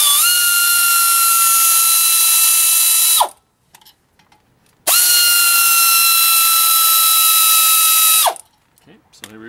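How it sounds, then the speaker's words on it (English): An air ratchet spinning out brake caliper bolts on a 2000 Toyota Avalon during front brake service, two loud, steady whirring bursts of about three seconds each with a winding-down tail and a brief quiet gap between them. "If you have the luxury of an air ratchet, as I do, it makes your life a little easier"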